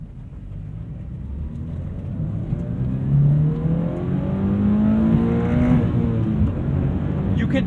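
A 2016 Toyota GRMN86 sports car engine revs and builds, its throaty drone rising in pitch with a couple of surges, loud and close.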